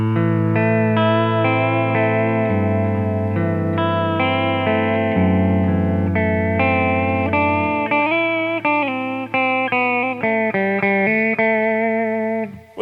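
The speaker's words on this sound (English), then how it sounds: "If we crank that all the way up to max, so no clean, it sounds like this." Electric guitar through an Aqueous chorus pedal with the mix fully up and no clean signal, a run of sustained chords and single notes with a thick, wavering shimmer, played alone and close.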